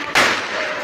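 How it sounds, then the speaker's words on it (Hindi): A single sharp gunshot cracks in a Muzaffarabad street, a sudden loud report followed by a short echoing decay. "ये देखिए लगातार यहाँ पे फायरिंग हो रही है।"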